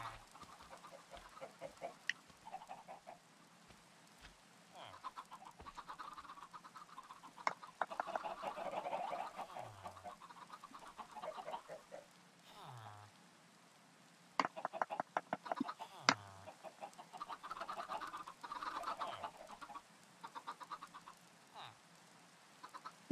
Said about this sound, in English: Oh my goodness, Greg, you got chickens!